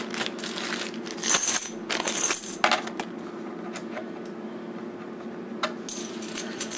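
90% silver quarters handled and stacked, giving bright metallic clinks and chinks in small bursts, close up over a steady low hum, with quiet pauses between the handfuls and no talking.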